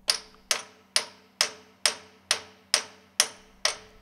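Metal bolts being fitted into a stuffing box housing on a work table give nine sharp, evenly spaced knocks about half a second apart, each ringing briefly and fading before the next, close and alone.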